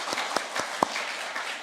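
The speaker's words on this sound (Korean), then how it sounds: "다시 한번 우리 찬양단 박수 한번 부탁드립니다." A few scattered, sparse hand claps from a small church congregation at an early-morning prayer service, isolated slaps in a quiet room over barely two seconds.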